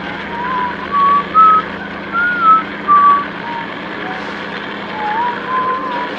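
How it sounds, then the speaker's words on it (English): A person whistling a cheerful tune fairly loudly, a few short bright notes in spaced bursts over a steady engine-like hum. "you better start whistling something bloody cheerful. Nice and loud now."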